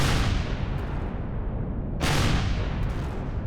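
Ground-based turrets firing in Empyrion Galactic Survival, heavy booming blasts, a sustained rumble and then a second strong hit about halfway through, with no talk.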